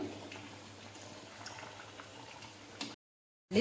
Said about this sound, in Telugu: ఇదిగోండి, ఇలా బాగా గోల్డెన్ కలర్ వచ్చేంత వరకు వేయించుకోవాలి